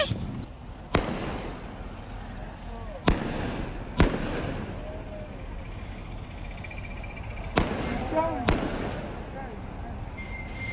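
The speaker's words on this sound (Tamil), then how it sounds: "அதனால எல்லாரும் பட்டாசுல வெடிக்கிறாங்க சென்னையில." Firecrackers burst in the streets of Chennai, with sharp isolated bangs going off one by one amid a steady background rumble and crackle from the street.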